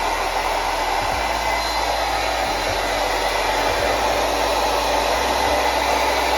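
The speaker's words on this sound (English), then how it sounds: "And now we're going to go back to the hairdryer." A hair dryer blows steadily on a candle to heat wax, a loud, even whirring roar that runs nonstop from start to finish.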